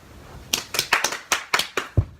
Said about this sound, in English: can you create your own round of applause?